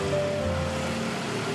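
Ocean water washes and laps beneath a stilt house over the sea in Johor Bahru, Malaysia, as a steady, close surf wash with no talking.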